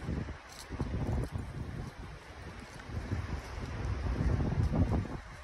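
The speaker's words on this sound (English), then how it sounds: "It's windy out too." Steady wind buffets the microphone at a campground, a low rumbling roar that swells and fades continuously with no voices.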